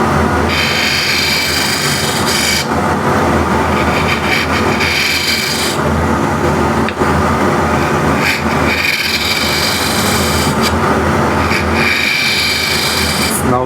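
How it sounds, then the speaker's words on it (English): A bowl scraper cutting very hard wood on a lathe gives a loud, continuous rasping scrape with a steady motor whir, swelling and easing in long slow passes. "So I have here a bowl scraper"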